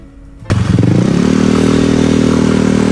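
After a moment of near quiet, a Yamaha Mio motorcycle engine kicks in abruptly and then holds a loud, steady buzzing drone close by.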